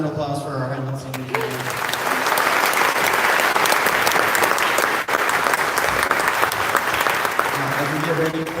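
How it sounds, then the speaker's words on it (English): Audience applause for a Highland choir inside Glasgow Cathedral: a loud, dense wash of clapping that swells after a brief spoken voice and keeps going steadily, with a voice returning at the very end. "one last round of applause for our Highland singers."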